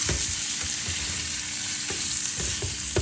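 Whole unpeeled shrimp frying in a pan, giving a loud, steady sizzle with occasional soft clicks and stirring taps.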